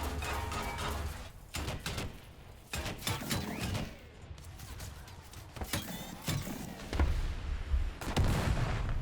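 A ZLT11 tank cannon fires in War Thunder amid battle noise, with several sharp broadband blasts spread across the stretch, some loud and close, others more distant, over a rumbling low background.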